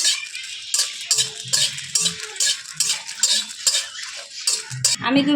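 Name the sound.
dry red chillies stirred in a hot wok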